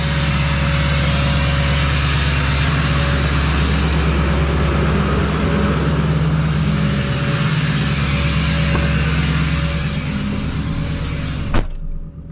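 A Chevrolet Duramax LBZ diesel pickup engine holds a steady high idle, a loud continuous rumble with a constant drone, ending in a brief sharp knock near the close.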